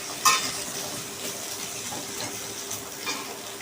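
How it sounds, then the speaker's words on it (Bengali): Vegetables fry lightly in very little oil in a pan, a faint continuous sizzle with a brief clatter near the start and soft pops, close and steady, no talking. "এগুলো আমি হালকা হালকা করে ভেজে নেব। খুবই কম তেল দিয়েছি"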